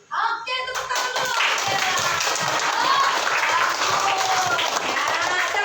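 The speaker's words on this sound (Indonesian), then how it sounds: "Oke, tepuk tangan dulu." Students in a classroom clap together, bursting into dense, lively applause that holds steady for several seconds, with children's voices mixed in.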